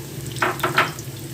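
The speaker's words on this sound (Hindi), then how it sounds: "इसको बस हल्का सा इसमें कलर आ जाए इतना हमें पकाना है, तल लेना है आलू को।" Boiled potatoes fry in hot oil for chana biryani, a soft continuous sizzle with three quick bursts of stirring scrapes close by in the pan. No one speaks.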